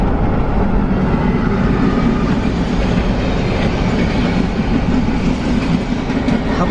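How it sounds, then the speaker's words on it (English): A passenger train runs past steadily for the whole stretch, its loud rumble and rhythmic clickety-clack of wheels on rails holding close by without a break. "the train's coming the other way"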